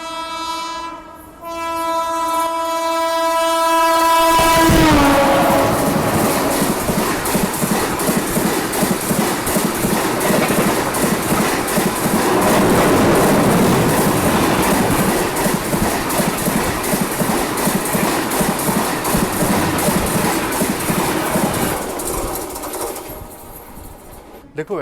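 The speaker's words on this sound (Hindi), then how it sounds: "और यहाँ फाइनली मुंबई राजधानी ओवरटेक कर रही है हमको।" The Mumbai Rajdhani Express overtakes a halted Jammu Tavi Humsafar train: a long, loud horn blast, then a sustained roar and rhythmic clatter of passing coaches close by for about twenty seconds before fading.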